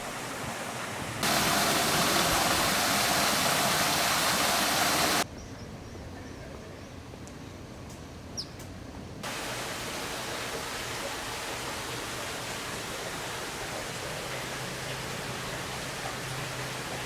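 A water feature in the tropical garden at the Huntington in Los Angeles: steady broadband splashing and rushing water, loud and close at first, then softer and more distant, with no talk.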